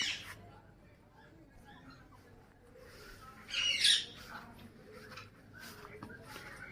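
Lovebirds and other parrots in cages give faint, scattered squawks and chirps, with one brief louder squawk in the middle, heard at some distance over a low background.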